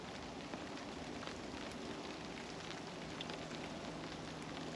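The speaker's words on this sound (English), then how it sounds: "It's wet, it's raining" Steady rain falling outdoors, a continuous faint hiss with soft scattered drops, even and unbroken throughout with no voices.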